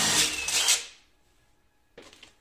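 Battery screwdriver whirring as it backs out the screws of a standard espagnolette window handle, a short close burst of motor noise followed by a brief quieter second whirr.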